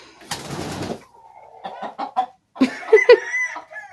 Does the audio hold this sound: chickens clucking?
yes